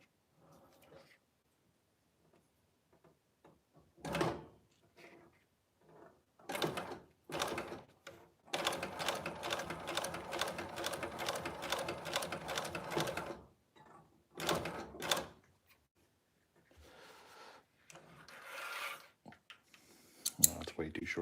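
A sewing machine stitches a scrap piece of fabric to test the stitch length, running in a steady burst for several seconds between short starts and stops, with quiet gaps around it.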